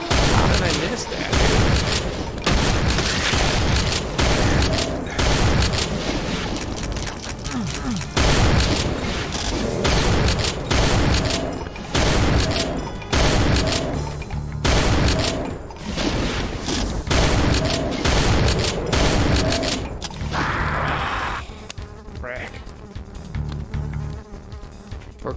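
Repeated shotgun blasts in the Doom megawad SIGIL, dense and loud, firing over a constant buzzing backdrop of game sound and music, with a quieter stretch near the end.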